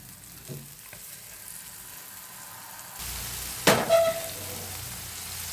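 Chicken fries in oil on a tawa for tandoori chicken masala with fenugreek. A soft sizzle grows louder partway through, with sharp metallic scraping and stirring clatter on the pan and no talk.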